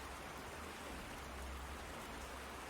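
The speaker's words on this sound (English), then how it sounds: "the water sounds are really hecking loud" Steady rain and running water hiss at a rainy cabin in the City of Heroes video game, a dense, even wash of sound with no voices.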